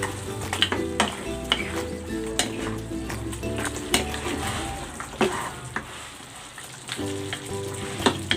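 Braised barbecue pork ribs sizzle steadily in a pan, a continuous close frying crackle with occasional sharp pops and spatula clinks, while low music plays underneath throughout.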